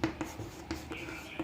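Chalk or marker writing on a board during a lesson, a few short scratchy strokes and taps in an uneven rhythm, close and moderately loud, with soft voice sounds underneath.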